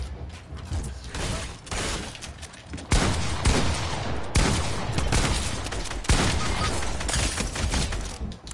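Rapid gunfire in the video game Fortnite, with dense, loud bursts of shots that stack into continuous volleys and mechanical clatter, punctuated by sharper blasts and heard alone without talking.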